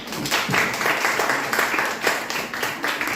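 Classroom applause for a classmate, a steady patter of many hands clapping at close range that continues without a break across the whole stretch.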